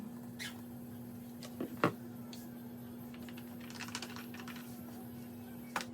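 Scattered light clicks of keys being pressed on a computer keyboard, irregular and fairly quiet, over a steady low electrical hum.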